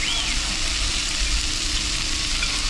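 Food sizzles on a hot skillet plate at a Pepper Lunch restaurant, a steady, close and fairly loud hiss that holds without a break and with no talking.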